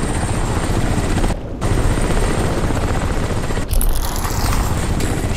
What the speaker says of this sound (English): I gotta wait for this helicopter to pass or something.